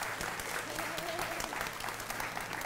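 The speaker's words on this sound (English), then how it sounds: "Please, can we give them a huge round of applause?" Audience applause for a panel of three speakers at a wellbeing talk event, a dense, steady clapping that fills the whole short stretch, with a voice faintly audible beneath.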